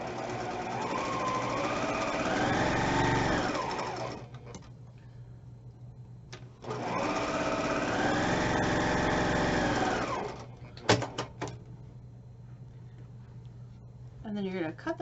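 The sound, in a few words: sewing machine sewing quarter-inch seams on fabric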